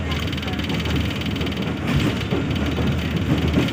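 A train travels from Multan to Sanawan with a steady rumble and rattle of cars rolling along the rails, while someone talks over it.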